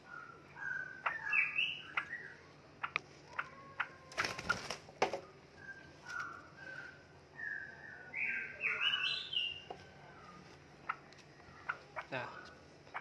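Young straw-headed bulbuls, a nestmate pair, giving short bursts of bright chirping calls close by amid rustling and a loud clattering crunch partway through.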